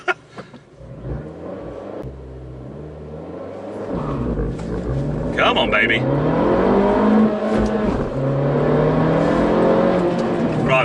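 Abarth 695 Anniversario engine revving on a race track, rising from a low idle into loud, climbing acceleration with gear-change dips, close and sustained, with someone speaking briefly over it.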